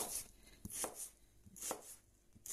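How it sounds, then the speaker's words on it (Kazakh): Onions are chopped with a knife on a board, four or five crisp, evenly spaced cuts, close and fairly quiet, with no talk. "Енді осылай пияздарымды турайым."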